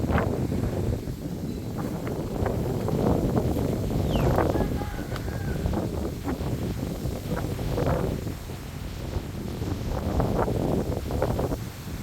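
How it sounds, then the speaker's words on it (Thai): Strong wind gusts across an outdoor microphone beside a V8-powered rice combine harvester, a loud, steady rumbling buffet with surging swells and rustling, and no clear speech. "วันนี้ลมแรงหน่อยนะทุกคน"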